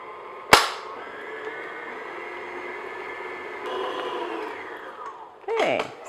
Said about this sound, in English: And now I'm just going to beat this on medium speed just until everything gets mixed together.